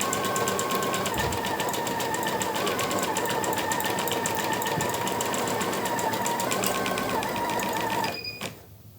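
An embroidery sewing machine stitching a fabric bag runs with a fast, steady mechanical whir and rapid needle clatter, loud and close, then stops abruptly near the end.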